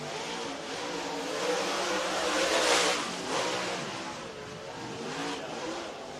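A dirt-track race car circles Lake Cumberland Speedway in Burnside, Kentucky during qualifying laps, its engine a steady broadband roar that swells as it passes closest, then eases off without fading away.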